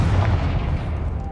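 A Confringo fire spell blasts in Hogwarts Legacy, a deep booming burst that rumbles low and steady for a moment, loud and close, with no voices over it.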